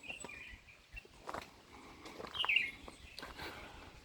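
Faint, scattered bird chirps and tweets in a tropical jungle on Lion Mountain, Mauritius, with soft footsteps and rustling underneath; one brighter call rises midway, all fairly distant and quiet.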